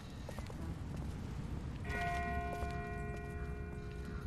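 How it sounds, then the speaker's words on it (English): In The Walking Dead game, a bell rings steadily from far off, clear, sustained tones that sit over a low rumbling outdoor ambience, with no one speaking. "That's not the same bell as before. This one's further off."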